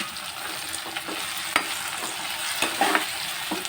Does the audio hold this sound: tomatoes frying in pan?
yes